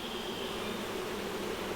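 Honey bees at an open hive during a beekeeping inspection, a steady, close, continuous buzzing drone with no talking over it.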